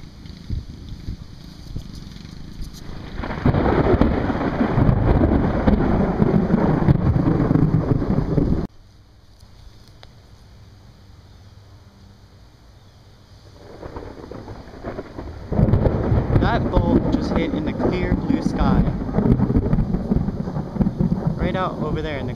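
Loud, close thunder from a very near positive cloud-to-ground lightning strike under a thunderstorm with mammatus clouds, a heavy rumbling roar that drops away mid-clip, then surges back with wind buffeting the microphone.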